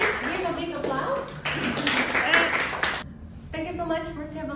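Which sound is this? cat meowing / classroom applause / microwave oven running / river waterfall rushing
classroom applause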